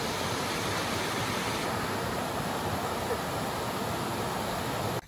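A waterfall on a mountain trek near Mumbai roars as a steady, loud, broadband rush that fills the whole clip without pause, close by.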